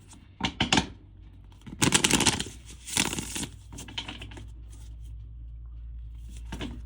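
Animal oracle cards being shuffled and pulled: a few brisk papery riffling bursts with quieter handling and card slaps between them, close by in a quiet room.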